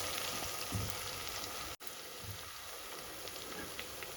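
Cleaned goat head pieces dropped into hot oil in a frying pan for goat head curry, giving a loud, steady sizzle and crackle that runs throughout with a brief break partway.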